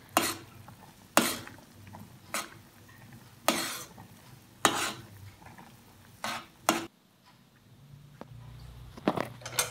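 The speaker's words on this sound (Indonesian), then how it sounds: "ini diaduk-aduk mie-nya supaya matangnya merata" Noodles being stirred in a pot of boiling water: a low bubbling simmer underneath, punctuated by about a dozen distinct scraping, clattering strokes of the utensil at irregular intervals, close by, no talking.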